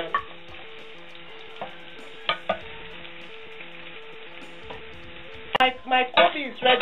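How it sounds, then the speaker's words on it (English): Chopped onion drops into hot palm oil in a saucepan, with a faint sizzle under a low hum, a few small clinks, then louder bursts of stirring and spitting near the end. "As the oil is hot, I add my chopped onion."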